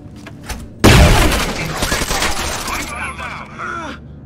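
Breach charge and gunfire in Rainbow Six Vegas 2: a sudden loud blast hits, then a rapid burst of close gunshots rattles on and fades out, with a voice talking underneath.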